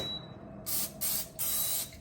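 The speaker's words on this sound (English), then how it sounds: "Spray the inside a little so it won't stick" Three short hissing bursts of cooking oil spray into a Power XL air fryer in quick succession, close and fairly soft, over a quiet background hum.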